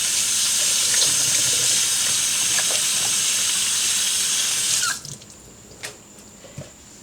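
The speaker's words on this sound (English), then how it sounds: "Let me just wash my hands." Hands being washed under a running kitchen tap while Jamaican-style kidney is cooked: a loud, steady rush of water that cuts off abruptly, followed by a few faint drips and small clatters.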